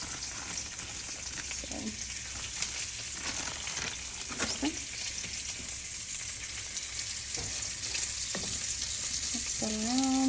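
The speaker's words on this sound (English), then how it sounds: "mix that around until it is fully melted and incorporated." Gouda, Gruyere and Colby Jack cheeses are stirred in a hot pan to melt for a loaded cheesy potato dish, a soft steady sizzle with occasional utensil scrapes and a brief voice near the end.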